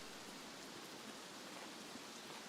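Rain pours down in the game Escape from Tarkov, a constant soft broadband hiss, faint and unchanging, with no one speaking over it.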